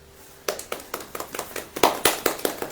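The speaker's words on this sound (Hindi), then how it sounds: "ताली बजाओ" Hands clapping in an audience at a religious gathering, about a dozen sharp, close claps in an uneven rhythm that builds slightly after a quiet start.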